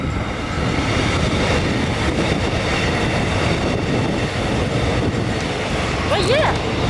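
Passing train heard as a loud, steady broadband rumble filling the whole stretch, with a brief rising squeal near the end.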